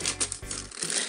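A small torn plastic bag of parts from a wind-powered model kit crinkles as it is handled, a brief close, dense rustle.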